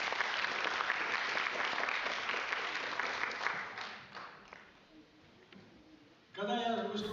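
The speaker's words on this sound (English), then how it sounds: "Applause, please." An audience applauds loudly, the clapping fading away before a voice starts speaking near the end.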